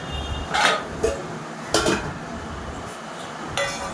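Dishes and cutlery clink in a few separate bursts as rice and chicken are served at home, light metallic taps on plates spaced out over a quiet room background.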